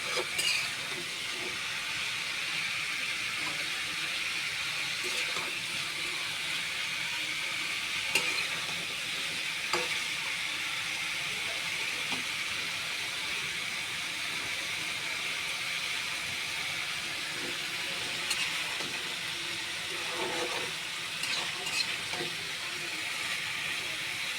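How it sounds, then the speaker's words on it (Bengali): Potato curry with dried kachki fish cooking in a pan, a continuous hiss of frying with regular scraping and stirring strokes from the bottom, steady and close, with no voices. "তলি থেকে নেড়ে নেবেন নাহলে কিন্তু লেগে যাবে"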